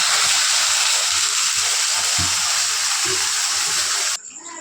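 Hot water pours out in a steady, loud, close rush that runs unbroken for about four seconds, then cuts off abruptly, with faint low clatter beneath and no voices.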